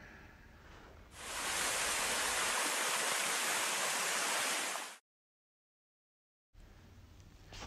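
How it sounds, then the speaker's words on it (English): River water flows steadily beside a church, a loud continuous broadband rush that holds for about four seconds, then cuts to silence before quieter ambience returns. "And that's the river that flows."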